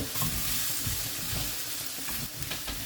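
Sliced onions sizzle steadily in a hot pan with ginger garlic paste and salt, the base for a spicy egg masala curry, with soft stirring scrapes over a dense, continuous fry close by.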